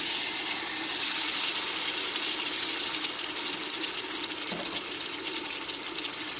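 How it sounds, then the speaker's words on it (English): Diced fresh tomatoes go into simmering marinara sauce, producing a steady, hissing, watery sizzle up close that softens slightly toward the end. "now I'm going to add the diced fresh tomatoes"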